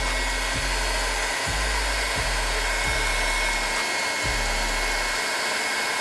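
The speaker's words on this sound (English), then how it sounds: "Now we want to hit it with a heat gun." A heat gun on a low setting warms epoxy soaked into a cord-wrapped handle, blowing as a loud, steady, whining airflow with a few soft low thumps.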